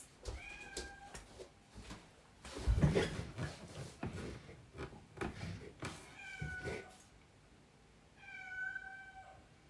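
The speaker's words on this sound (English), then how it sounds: "He's meowing in front of my mother's door" A cat meows several times, with a clear early meow, a pair of cries in the middle and a final meow near the end, close by in front of a door, amid faint rustling and household noise.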